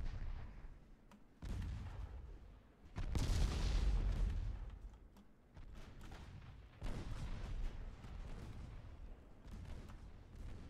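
Naval guns pound an armored cruiser in the Ultimate Admiral naval strategy game, set in 1890: a rumbling series of heavy booms and overlapping shell blasts, loudest mid-way, then sustained rolling fire with further bursts, no talk.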